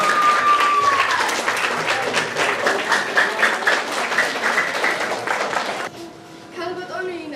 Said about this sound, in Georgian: დაში ხურვალი აპლოდისმენტები მეგობრებო